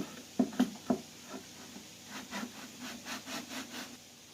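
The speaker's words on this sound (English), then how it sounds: "Slide the cover back on." A metal cover slides back onto a 1500W Dr. Infrared heater with a few sharp knocks and then a rhythmic scraping rasp, close and fairly quiet, lasting about four seconds with no talking.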